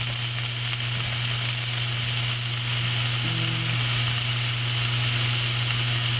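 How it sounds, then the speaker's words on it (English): Onions sauteing in a pan with a little olive oil, a steady close sizzle and hiss running evenly throughout with no talking. "I've got my pan here with a little bit of olive oil. And I'm going to saute some onions."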